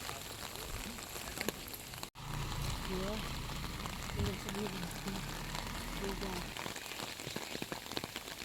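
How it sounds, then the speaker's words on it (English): Light rain falls in a park in northeast China, a soft, steady patter across the whole scene with voices talking over it. "More than half an hour later, the rain finally became lighter."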